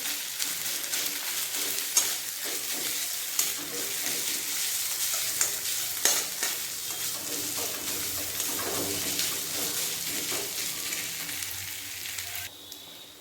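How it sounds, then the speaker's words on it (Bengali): Ginger garlic paste with onion sizzles steadily in a pan while cooking mutton head, a continuous close frying hiss with occasional stirring scrapes and clinks. "আদা রসুনটা ভালোভাবে ভেজে নেব"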